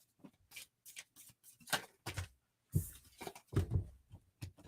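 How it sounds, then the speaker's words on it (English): Tarot cards are shuffled loosely and a bit sloppily, making close, irregular bursts of riffling and flicking with brief pauses between them, quiet overall with no talk. "And there was sloppy shuffle"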